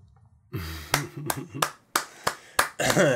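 A single person claps slowly and loudly, about seven sharp, separate claps close by, with voiced breaths or murmurs between them.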